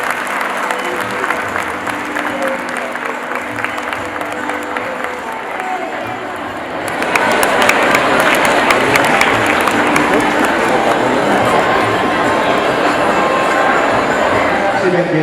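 A school event audience applauds, scattered clapping and murmuring swelling about halfway into loud sustained applause from a large crowd, with some chatter mixed in.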